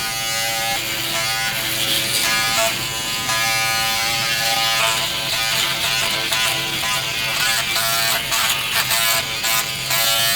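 A Manscaped Lawn Mower 5.0 Pro Ultra electric trimmer buzzes steadily and close up while shaving chest hair, its motor whine constant with slight scratchy variations as it moves over the skin.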